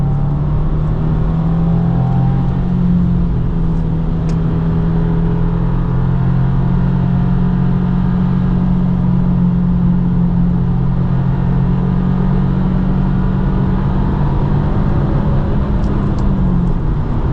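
Inside a 2025 Subaru WRX tS lapping Road America, the engine drones loudly and continuously near redline, a sustained strained tone that barely wavers throughout.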